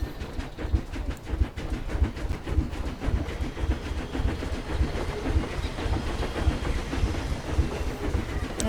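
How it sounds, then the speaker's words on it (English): A short ride on a train in the zoo-building video game Planet Zoo, with a steady rhythmic clickety-clack of wheels on rails and a soft hiss running throughout. "it's going to be a short train ride from that station to this station"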